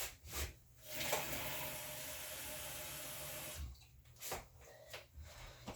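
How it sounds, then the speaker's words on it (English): Half and half and water pouring into oatmeal brownie batter with zucchini and banana, a steady liquid stream running for several seconds, bracketed by short clinks and handling noises. "I'm going to do a 1/2 cup of half and half, and then a 1/2 cup of water."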